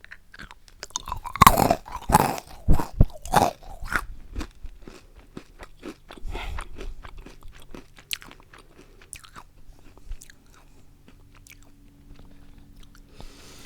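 Crunchy honeycomb candy chewed up close, with a burst of loud, sharp crackling bites early on that settles into softer, sporadic crunches and faint mouth sounds, no talking.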